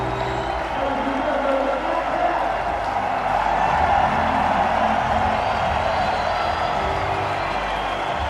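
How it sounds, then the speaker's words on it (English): A large cricket crowd celebrates near the end of a tense New Zealand run chase, with a broad, steady wash of cheering and applause from a distant stadium audience. "Very happy crowd."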